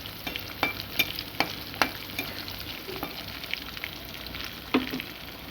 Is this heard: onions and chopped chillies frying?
yes